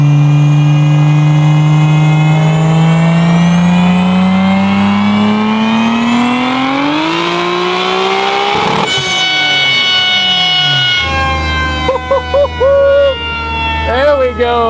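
A 1500-horsepower Dodge Dart with a 3.2-liter stroker 2JZ engine on 40 psi boost screams at full load on a dyno, its pitch climbing steadily to a peak, then cutting and settling into a rough, loud idle with crackles.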